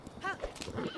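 A horse's hooves clip-clop in Breath of the Wild, with a whinny-like tonal call partway through. The hoofbeats are moderately loud and busy against game noise, with no talk.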